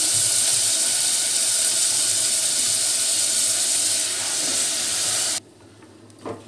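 Rice boiling in a pot on a home stove, a loud steady steamy hiss and bubbling that fills the clip for about five seconds, then cuts off abruptly to near quiet with a small clink at the end.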